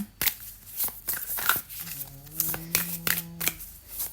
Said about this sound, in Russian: Теперь мы перемешиваем эти карты, оставшиеся.